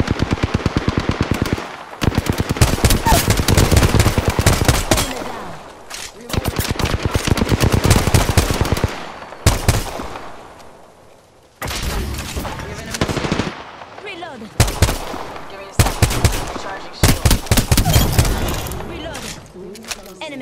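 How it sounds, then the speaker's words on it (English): Rapid automatic gunfire in the Apex Legends battle royale, long loud bursts broken by short pauses across the whole stretch, with a voice talking over parts of it. "Listen up, I'm getting shot at."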